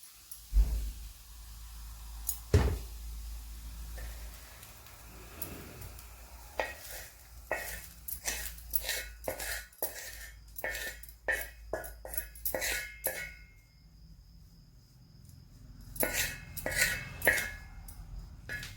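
Cooked potato kharda is scraped out of a pan onto a plate: scattered clinks and scrapes of a spoon against metal, bursts of rapid tapping, and a faint sizzle underneath.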